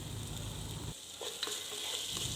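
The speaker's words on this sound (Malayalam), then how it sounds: "നേരത്തെ അരിഞ്ഞു വെച്ചിരുന്ന കിഴങ്ങും കൂടി ചേർത്ത് നല്ലപോലെ ഇളക്കി കൊടുക്കുക" Potato and tomato are stirred and fried in a pan for Kerala-style prawn curry, a quiet sizzle with a few soft scraping stirs, close but faint, with a low rumble that drops away partway through.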